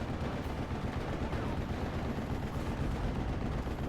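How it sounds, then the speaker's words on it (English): Grenades explode in a World War II strategy video game during a Panzer Lehr versus 101st Airborne match, a dense, continuous roar of blasts and battle noise at steady loudness throughout. "Both of them will throw out the grenade."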